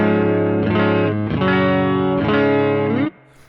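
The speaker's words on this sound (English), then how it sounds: "here is just a clean channel on my amp" Electric guitar with a P90 neck pickup playing a chordal riff through an amp's clean channel, sustained notes ringing in two phrases, then stopping abruptly near the end.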